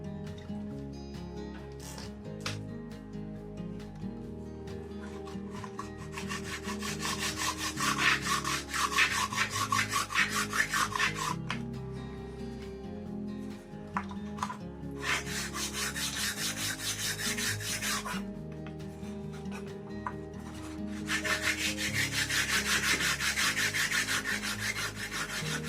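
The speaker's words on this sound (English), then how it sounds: "finish it off with my little sanding stick" Steady rubbing and rasping of a small sanding stick on wood, continuous strokes with brief pauses, close and fairly loud, no talking.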